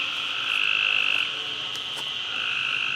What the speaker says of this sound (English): you can hear the frogs